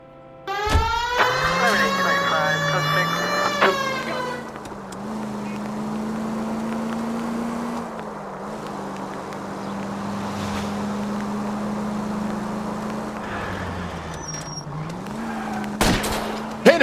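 A car in L.A. Noire drives with a steady engine drone that rises and falls in pitch, opening with a brief shrill, tonal burst.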